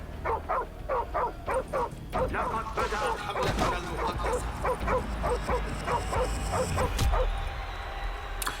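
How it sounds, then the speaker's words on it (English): Repetitive dog barking from the Call of Duty 4: Remastered video game, a steady run of evenly spaced yips and barks at moderate loudness, with other game noise and a voice talking over parts of it. "It's not very good dog barking."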